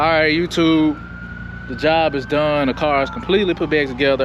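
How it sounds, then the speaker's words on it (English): Emergency sirens wail faintly in the distance, a thin sustained tone lying beneath someone speaking close up in the foreground. "I apologize if you hear sirens in the background"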